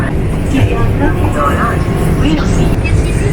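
A passenger train from Sealdah station bound for New Delhi rumbles along at speed, a loud continuous low roar with rattling carriage noise heard from inside the coach.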